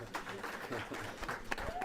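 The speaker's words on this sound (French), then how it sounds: "Applaudissements pour le coaching gagnant de Jocelyn Gourvenec." Stadium crowd applauding for coach Jocelyn Gourvenec at an En Avant Guingamp football match, a brief wash of clapping and crowd noise under a commentator's voice.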